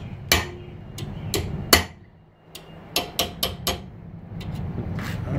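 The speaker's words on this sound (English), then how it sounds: "Using a small hammer." A small hammer strikes metal at a forge in a sharp, irregular series of about a dozen close, ringing taps, some doubled, with brief pauses and a low room hum beneath.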